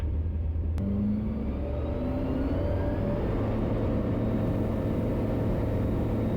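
The engine of a KFA Safari STOL light aircraft drones loudly and continuously through the takeoff roll, its pitch climbing gradually as it gathers speed.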